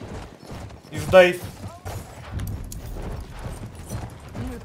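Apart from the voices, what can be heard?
horse hooves clip-clopping in video game Battlefield 1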